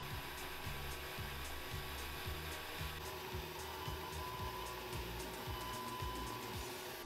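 An Atomstack X30 Pro laser cutter runs over construction grade plywood, a steady mechanical drone with a rapid, regular pulsing chatter from its moving head, continuous and fairly close with no talk.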